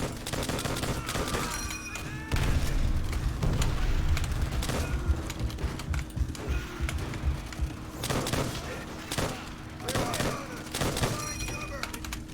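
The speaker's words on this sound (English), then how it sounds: "Down, grenade!" A grenade blast in the Call of Duty: World at War game, a heavy, booming burst set amid repeated rifle and machine-gun fire, with voices talking over the battle.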